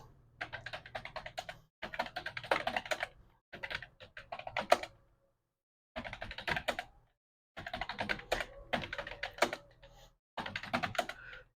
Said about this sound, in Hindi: हम इसमें लिख लेते हैं आसिफ, काशिफ, नासिर, जुनेद, हामिद